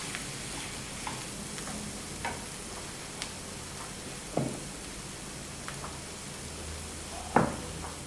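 Pomegranate seeds go into a pan of sizzling food, giving a steady quiet frying hiss with a few soft scraping stirs and light clicks of a spoon against the pan.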